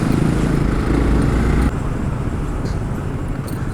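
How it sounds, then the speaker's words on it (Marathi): Road traffic passes on a weekend highway during a motorcycle ride, heard as a steady, loud engine and wind roar that drops slightly in level partway through, with no talk. "हे ट्रॅफिक वीकेंडसाठी आहे"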